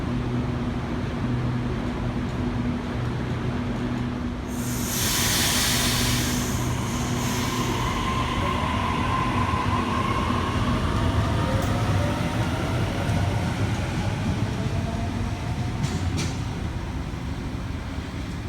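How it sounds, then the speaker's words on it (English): A Sydney Trains K-set, car K66 leading, pulls into platform 1 at Domestic Airport station. A loud, steady rumble and rolling roar fill the platform, with a brief burst of high hiss and faint squeals and whines as it slows. "We've got a K-set arriving onto platform number 1, K66 leading."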